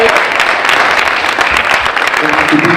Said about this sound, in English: Mayor Christine Danzero, give a round of applause.